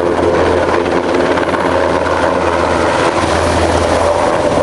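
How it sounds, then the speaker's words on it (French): NH90 Caïman Marine naval helicopter based at Lanvéoc-Poulmic, flying at the Rennes airshow, a steady loud rotor and turbine roar that holds at constant level throughout, with no talking. "Ce NH90 Caïman Marine est basé à Lanvéoc-Poulmic"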